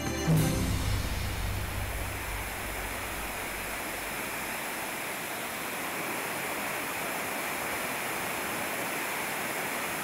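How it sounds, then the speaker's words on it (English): Steady rushing water from bubbling springs in Samana, Dominican Republic, broad and continuous like a stream or small cascade, loud and unbroken for the whole stretch. "Flows of water that bubble in the breeze"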